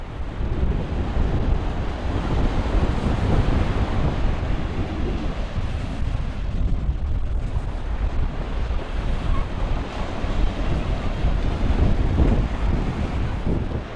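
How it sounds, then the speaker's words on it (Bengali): Continuous roar of ocean surf on a quiet, empty stretch of Dublagadi beach in Bagda, with steady sea wind whooshing across the microphone, loud and unbroken throughout without any voices. "সমুদ্র শুধু গর্জন করছে, সামুদ্রিক বাতাস শুধু কানে একটা শোঁ শব্দ ধরায়"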